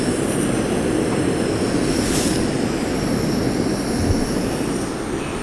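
A Dpower camping stove burns outdoors in the wind with a continuous broad, rushing roar of burner flame, steady and fairly close, with gusts of wind noise.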